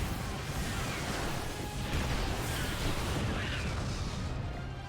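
Cannon fire in a StarCraft II battle between Terran and Protoss forces rumbles as a continuous wash of booming blasts, dense and steady throughout at moderate level, with no talk.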